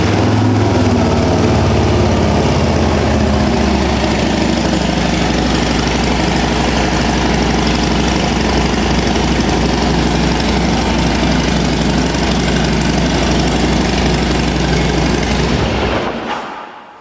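Custom Harley-Davidson Lowrider ST motorcycle engine running loud and close with a steady deep throb and even rumble, holding unchanged for about sixteen seconds before cutting off abruptly.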